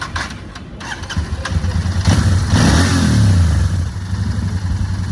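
A Royal Enfield GT 650 motorcycle engine idles low and steady, then swells into a sustained rev for a couple of seconds before settling back, heard close with outdoor background noise.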